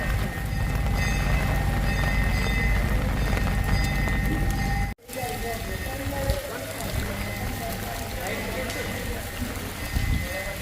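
Heavy rain pours steadily on a flooded village in Simda, Petlad taluka, a dense continuous wash with a brief break midway, then resumes under faint voices.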